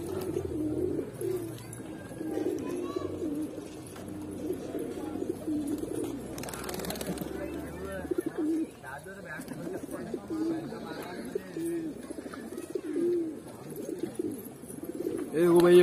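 Pigeons eating rice coo softly and repeatedly in the background while someone talks over them nearly throughout.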